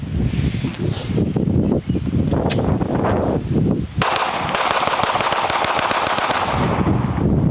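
Loud, rapid strings of gunfire from pistol-caliber carbines at an outdoor shooting range crackle nearby, with dense overlapping shots and a sharp, regular burst of fire in the second half.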